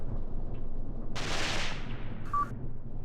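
A single loud burst of gunfire with a long rumbling tail rings out in the Mius Front war game, set against a steady low battlefield background.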